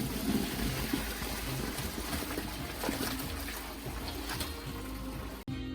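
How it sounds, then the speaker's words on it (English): Lasagna noodles are drained into a colander, steady pouring water splashing and trickling throughout, a continuous wet rush that cuts off abruptly near the end. "I'm gonna drain them right into my colander."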